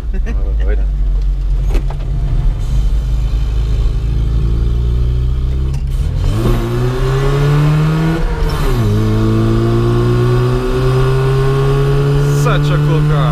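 A 1989 Rover Mini 30th Anniversary Edition with MKII conversion revs its engine loudly and close up, rising and falling in pitch through several surges, with a voice talking over it.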